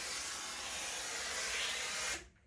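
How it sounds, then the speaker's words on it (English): A steam iron presses a sewn fabric pocket, giving a loud continuous hiss of steam that cuts off abruptly near the end. "give the pocket a good steam press to set the stitching"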